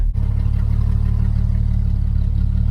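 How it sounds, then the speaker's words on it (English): A 30-year-old Jeep's engine runs steadily with a broken exhaust, giving a loud, continuous low rumble with a brief dip near the start. "I just broke the exhaust"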